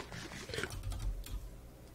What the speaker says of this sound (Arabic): حاولت اني ابعد الكيبورد على المايك لان صدق كان صوت حتى انا يزعجني شوي